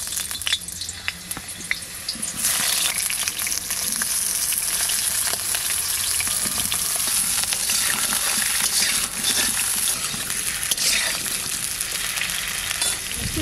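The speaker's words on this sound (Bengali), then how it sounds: "আলুটা ভেজে নেব।" Potatoes sizzle and crackle vigorously in hot mustard oil in an iron wok, a steady loud frying hiss with occasional stirring scrapes and taps, no talking.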